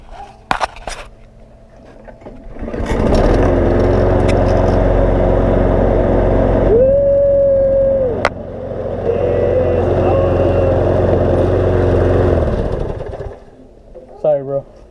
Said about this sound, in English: let's do some burnouts